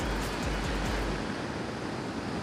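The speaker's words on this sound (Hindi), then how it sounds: "आप लहरें देख सकते हैं कि कितनी हार्श हैं, कितनी ज़ोर से लहरें आ रही हैं।" Rough ocean surf at Arambol Beach in Goa roars as a dense, steady wash of noise, with heavy low rumbling at first that eases into continuous hiss.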